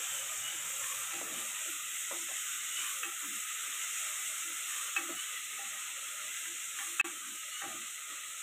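Tomato and garlic paste sautéing in a pan, a steady low sizzle and hiss with faint stirring scrapes and a few small clicks, quiet and continuous with no talking.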